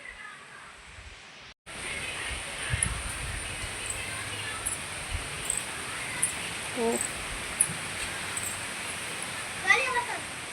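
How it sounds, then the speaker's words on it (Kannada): Strong wind gusts through trees and leaves in a steady broadband rush lasting most of the clip, with a brief dropout near the start and occasional bird chirps and a short voice over the roar. "ಇತ್ತೆ ಮುಂಚೆನೆ ಇತ್ತ ಉಂಡು ತೂಚುನು ಜೋರು ಗಾಳಿ"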